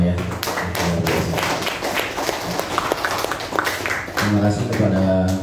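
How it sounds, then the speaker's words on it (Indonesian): Audience clapping at a school legal-awareness session on trademarks, designs, copyright and patents at an elementary school, a dense patter of many hands with talk and background voices running over it. "boleh saya minta tepuk tangannya untuk kita semua ya"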